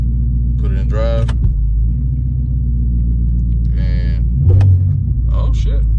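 A Dodge Daytona engine idles with a steady low rumble while the car is put into drive and rolls forward. A voice talks over the engine in short bursts, with a brief heavier surge near the end.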